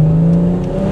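A Ford Fiesta ST's exhaust drones steadily as the engine revs, with a close, loud tone in one short continuous burst.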